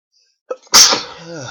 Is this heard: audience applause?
no